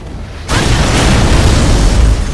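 Tanks exploding in the video game Gears of War 3, a sudden loud blast that erupts into a sustained roaring, crackling boom filling the clip.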